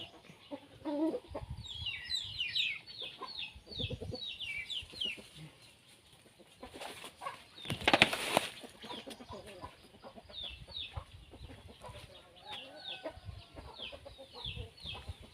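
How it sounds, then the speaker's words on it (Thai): Chickens clucking around a bamboo chicken coop on a mixed rice and sugarcane farm in rural Isan, northeastern Thailand. Steady, overlapping clucks run throughout, with a louder flurry of activity midway. "จะเป็นสุ่มเลี้ยงไก่นะคะ จะเลี้ยงไก่ด้วยนะคะ"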